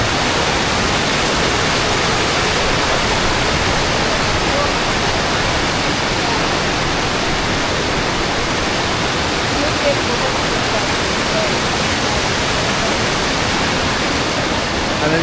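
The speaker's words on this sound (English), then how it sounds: "you go a little bit further up, and you're treated and greeted by another waterfall" A Croatian waterfall roars as a loud, dense, unbroken rush of falling water, close and constant throughout with no gaps.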